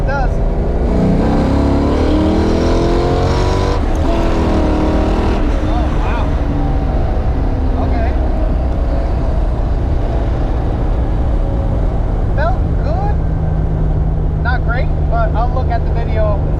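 Nitrous-fed notchback car engine pulling hard past 3,000 RPM, a loud sustained roar under a voice, with wind and road noise throughout.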